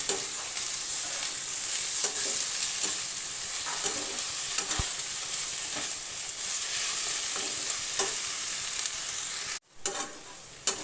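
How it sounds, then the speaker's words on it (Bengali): Ridge gourd stir-fries with poppy seed paste in a pan, giving a steady moderate sizzle broken by soft scraping stirs. A sharp click sounds midway, and the sizzle briefly drops out near the end. "ভালোভাবে নেড়ে চেড়ে নেব 1 মিনিটের মতো।"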